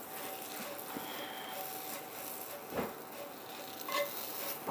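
Bread fries in melted butter in a hot pan, giving a faint, steady sizzle with occasional soft scraping and stirring sounds close by, and no one speaking.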